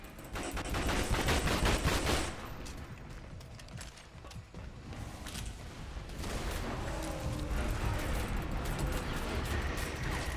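Shotgun blasts and gunfire ring out in a dinosaur shooter game, a dense volley of loud shots in the opening seconds, then steadier mechanical clatter and more firing through the rest.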